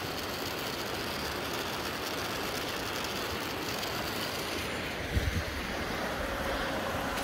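A small Kärcher suction pump draws fresh water through a hose from a mountain stream, a steady loud broadband rush of running water and motor noise, constant throughout with a faint tone near the end.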